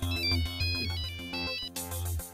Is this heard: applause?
no